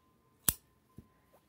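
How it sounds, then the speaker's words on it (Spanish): A crisp snip of small scissors cutting a strand of crochet yarn, one sharp close cut followed by a softer second click in a quiet room. "Vamos a cortar aquí nuestra hebra."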